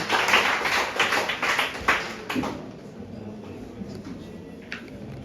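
A burst of audience clapping at a basic schools science and mathematics quiz final, fairly busy for about two seconds and then thinning to scattered claps and taps over a quiet room hum.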